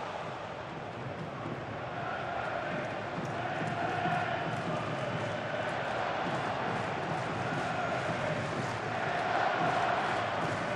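A stadium crowd roars in a FIFA 23 World Cup final between Portugal and England, a dense, steady wall of cheering and chanting that swells slightly and holds throughout without letting up.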